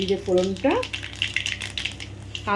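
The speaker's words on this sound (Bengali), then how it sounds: "এবার দিয়ে দেব তেলের মধ্যে কালো জিরে ফোড়ন দিয়ে দিচ্ছি" Nigella seeds (black cumin) spitting and crackling in hot oil for a Bengali fish dish, a light scattered sizzle heard between bits of talk at the start and end.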